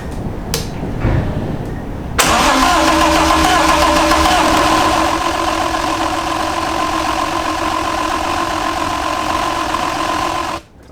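A BMW E30 with a swapped M52B28 engine cranks briefly, then catches and settles into a loud, steady idle close by before cutting off abruptly.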